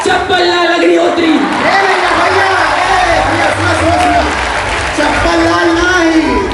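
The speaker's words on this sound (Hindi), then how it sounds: "और तालियां रुकनी नहीं चाहिए।" A crowd at a school Teacher's Day event claps and cheers steadily throughout, dense and loud, with voices and shouts mixed into the applause.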